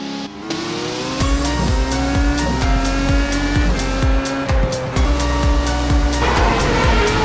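Sim racing cars at Road America in a video game roar together in a loud, continuous engine drone, with repeated rising revs, gear-change drops and tire squeal throughout.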